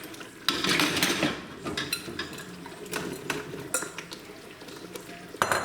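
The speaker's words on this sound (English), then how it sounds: "Now, we're gonna put our mushrooms in." Mushrooms tipped into a pan for veal cacciatore, a sudden clatter followed by steady sizzling and scraping stirs against the pan, close and fairly loud, with another sharp metallic knock near the end.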